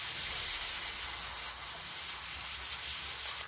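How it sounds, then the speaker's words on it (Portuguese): Colorzinho spray paint hisses from the can onto an old frying pan in one continuous, close, steady spray lasting several seconds, with no voices. "Pega a tinta spray da Colorzinho."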